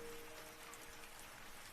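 Steady rain falls, a dense even hiss of drops on a surface, continuous and unbroken, with no voices.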